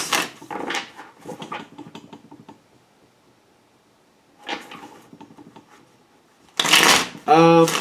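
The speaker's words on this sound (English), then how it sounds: "even though we haven't put down the card yet, I haven't finished shuffling" Tarot cards are shuffled with a loud riffle and bridge near the end, after quieter stretches of handling while a person talks.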